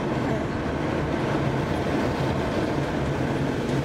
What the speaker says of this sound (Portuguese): Olha o trem chegando.